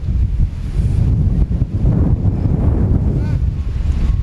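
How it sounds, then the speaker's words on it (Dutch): Strong storm wind gusts hard into the microphone at a river weir on the IJssel during high water, a loud continuous roar with rushing water beneath and no break throughout. "Ja, het waait flink."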